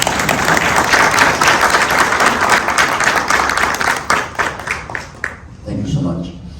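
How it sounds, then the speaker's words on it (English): A convention audience at a Florida civic gathering applauds in a dense, loud burst of clapping that keeps up for several seconds, then thins into scattered claps before a voice begins speaking at the end. "Let's give them a hand of applause."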